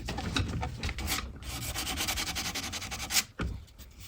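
180-grit sandpaper rubs back and forth over a mid-century Ethan Allen Windsor-brace wooden dining chair, giving a close, continuous gritty scratching with a brief pause near the end.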